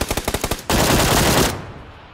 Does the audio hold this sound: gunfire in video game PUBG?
yes